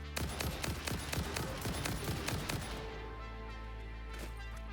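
Rifle gunfire in the factory-building game Satisfactory: a fast run of sharp, loud shots in quick succession, then a quieter ringing tail as the firing stops.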